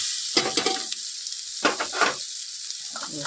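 Diced potatoes tipped into a hot frying pan for ghugni curry, crackling into a steady sizzle with a few bursts of stirring and scraping, close and moderately loud, no speech.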